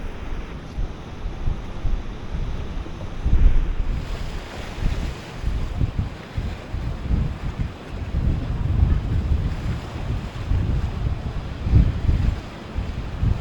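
Rough sea surf churns steadily with strong gusting wind buffeting the microphone, loud and continuous while fishing for large catfish from shore, waves surging in repeated swells with no voices.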